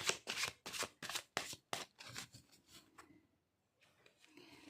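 Tarot cards being shuffled and drawn from a deck, a rapid series of close crisp riffling slaps, then softer sliding rustles and a brief pause before more card handling.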